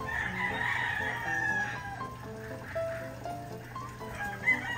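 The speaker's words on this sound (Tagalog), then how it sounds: "ang ating dalawang kakatil." A pair of cockatiels, one a white-face male, gives repeated shrill chirping calls close by, overlapping and varying in pitch over a quiet steady background hum.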